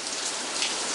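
Heavy rain pours steadily, a dense continuous hiss of drops striking surfaces close by, with no voices.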